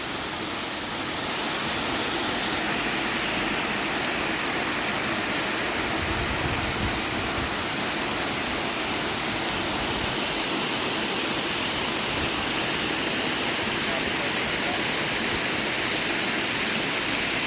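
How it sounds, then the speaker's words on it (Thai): A waterfall at Wat Phra That Pha Son Kaeo in Khao Kho, Phetchabun, roars as a loud, steady wash of falling water that holds unbroken and alone for about seventeen seconds. "พาทุกคนมาชมความสวยงามของน้ำตก"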